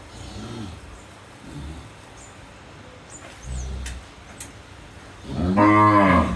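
A dairy cow at a cattle market in Naogaon gives several low moos: two short, quieter calls early, then a long, loud, close bellow at the end.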